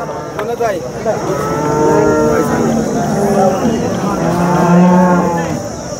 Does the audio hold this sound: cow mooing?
yes